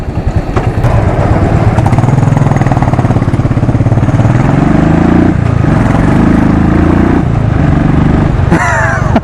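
A 2016 Royal Enfield Classic 500 Desert Storm motorcycle runs loud and close, its engine thumping steadily with small shifts in pitch, and a brief high chirp near the end.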